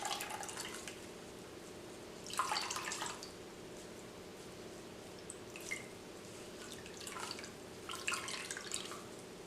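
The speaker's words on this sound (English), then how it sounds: "Lift the edges of the cheesecloth and squeeze out the liquid with your" Coconut milk squeezed from cheesecloth drips and trickles into a bowl in soft, faint bursts of liquid, close by in a quiet kitchen.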